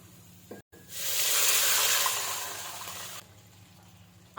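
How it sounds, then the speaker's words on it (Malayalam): Hot water poured into sautéed vegetables in a pan for upma, bursting into a loud, broad sizzle that rises quickly, holds for about two seconds, then drops away to a quieter simmer, with no talking. "ഇതിലേക്ക് ചൂടുവെള്ളം ഒഴിച്ചു കൊടുക്കാം"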